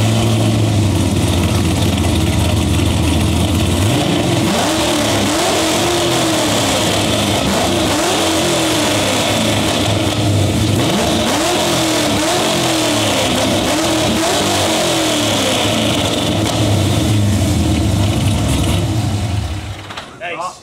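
A Corvette engine revs hard and loud, a sustained roaring drone with rising and falling pulls that fades at the end, with people talking over it.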